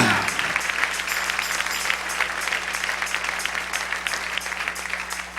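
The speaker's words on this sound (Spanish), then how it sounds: "Dale ese aplauso al Rey" Steady applause from a church congregation fills the room, a dense patter of many hands clapping that holds at an even level, with faint voices mixed in.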